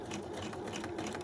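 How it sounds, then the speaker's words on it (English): A sewing machine stitches fabric in a close, steady rapid chatter, its needle hammering in an even mechanical rhythm throughout a brief run. "you're just going to sew about a 1/2 inch"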